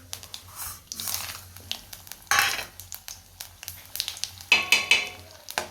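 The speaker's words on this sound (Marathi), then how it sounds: "इकडं कढईमध्ये गेले जिरे, मोहरी तडतडलेले आहेत" Cumin and mustard seeds crackle and pop in a hot pan, sharp irregular bursts with sizzling between them and a few utensil clinks, no voices.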